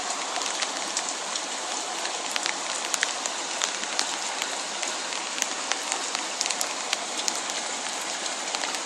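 Rain falls steadily outdoors during a July flood, pattering densely on surfaces with sharp individual drop ticks scattered through a constant hiss, close and without voices.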